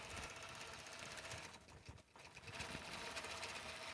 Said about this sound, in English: So I'm making sure that I'm here to catch it when it's doing jump stitches.